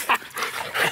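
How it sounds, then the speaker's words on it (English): Excited pet dogs yip, bark and whimper in a quick, close burst of high-pitched cries, loud and agitated, with no talk over them. "These dogs are going nuts."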